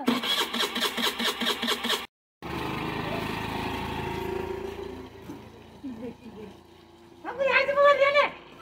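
A motorcycle in the cold snow is kick-started, with a few rhythmic sputtering attempts before the engine catches and idles; people talk nearby throughout.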